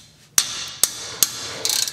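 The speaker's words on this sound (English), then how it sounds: "We'll go ahead and whack it a couple times with a hammer." Three sharp metallic hammer strikes ring out at even intervals on a Mazda Protege front brake part, followed by a quick burst of lighter taps.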